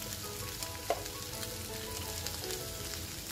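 Boiled potatoes sautéing in ghee for a fasting bhaji, giving a continuous close sizzle and crackle with soft stirring scrapes and one small clink near the start.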